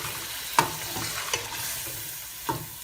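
Yogurt being stirred into a mutton karahi, a faint background sizzle with three distinct spatula knocks against the wok, quiet and close with no voices.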